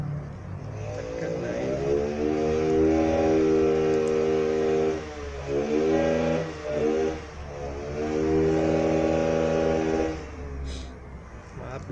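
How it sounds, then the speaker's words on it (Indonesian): Motorcycle engines revving at a motorcycle modification workshop across from a shop, loud rising and falling engine tones with repeated throttle blips, heard from a short distance. "Maaf bising karena di depan toko kebetulan ada bengkel motor variasi"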